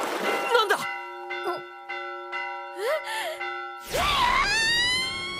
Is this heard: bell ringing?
yes